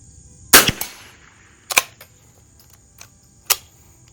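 A first-year 1931 Winchester Model 61 rifle fired at targets while plinking: three sharp, fairly close shots spaced about a second or more apart, with small mechanical clicks between them.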